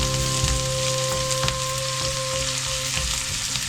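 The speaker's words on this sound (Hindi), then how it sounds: "इसको थोड़ा सौटे करेंगे" Onions sauté in a pan with a steady, close sizzle and a few soft stirring taps, continuous over a constant low hum.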